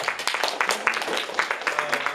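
A small audience in a music venue gives a short round of applause for a singer-songwriter, with individual claps clearly separate in an uneven, moderately close patter.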